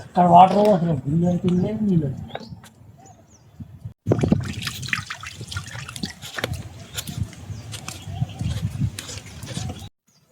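Water flows in front of the hilltop Mallikarjuna temple, a steady, fairly close splashing trickle that runs for several seconds after a voice talks briefly at the start.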